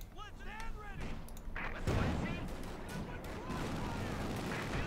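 Mortar and gunfire in the Company of Heroes 2 strategy game, with sharp distant blasts and crackling shots scattered through a busy battle mix while a commentator talks over it.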